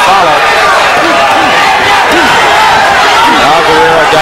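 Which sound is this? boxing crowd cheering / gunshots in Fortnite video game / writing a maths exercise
boxing crowd cheering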